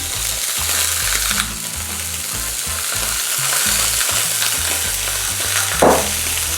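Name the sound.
red mullet fillets frying in a pan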